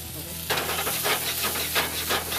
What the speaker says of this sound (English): We are going to saute it.